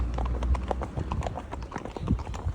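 A horse named Duke jogs along a main road, his hooves clip-clopping at a quick, even trot, close and clear.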